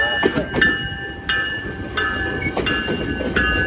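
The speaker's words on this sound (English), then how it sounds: "here comes CalTrain 123" A Caltrain commuter train passes College Park station in San Jose, heard as loud, close rolling rumble with repeated rhythmic clatter and ringing metallic tones, a few seconds long.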